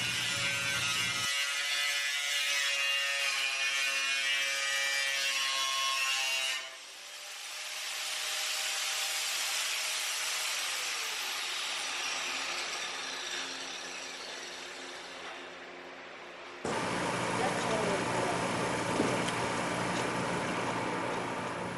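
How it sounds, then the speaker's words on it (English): An angle grinder cuts into a steel 55 gallon drum sitting on wheels, a harsh, loud whine with shifting pitch that runs nearly throughout, briefly easing midway before biting in again, with no talking. "Whenever cutting with an angle grinder, those sparks are flying and you will get burned"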